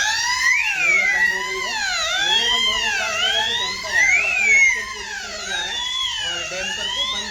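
A fire alarm siren sounding from a fire panel, a loud electronic wail sweeping up and down in repeated cycles, continuous and close.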